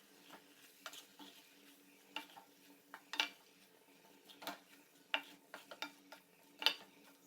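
Egg mushroom fried rice is tossed and stirred in a pan, with quiet, irregular scrapes and clinks of a spoon against metal and a soft sizzle underneath.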